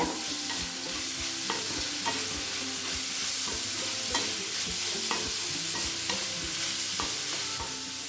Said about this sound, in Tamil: நல்லா ஹை ஃப்ளேம்லேயே வச்சு நல்லா வதக்கிக்கோங்க, அப்போ தான் சீக்கிரம் வதங்கும்.